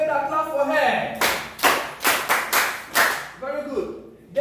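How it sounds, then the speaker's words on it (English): A class of students claps for a classmate during a maths lesson, several loud rhythmic claps and thumps in a row, with a person speaking before and after the clapping. "Clap for her."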